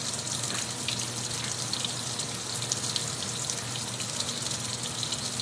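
Steady gush of warm tap water running into a basin, a continuous broadband hiss at constant level with no talking over it.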